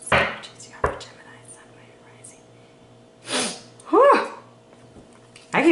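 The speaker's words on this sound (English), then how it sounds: "I keep sneezing" Person sneezing repeatedly during a tarot card reading, several short sharp bursts with breathy gasps between them, close and loud, with soft murmured words near one burst.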